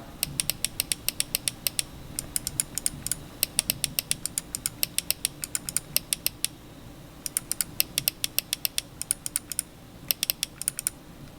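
Sharp gaming mouse button clicks, from a Logitech G502 and a SteelSeries Prime, tapped in quick bursts, close and crisp, with short pauses between groups over a faint background hiss.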